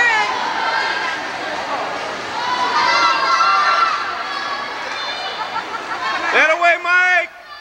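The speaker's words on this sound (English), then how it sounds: "Keep cheering!" Crowd at a 1993 swimming race cheering and shouting, with excited voices and children yelling through a continuous babble that swells into louder shouts near the end.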